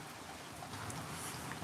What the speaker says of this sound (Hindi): ये बारिश पाकिस्तान पंजाब में राइट नाउ उसी टाइम बारिश हो रही है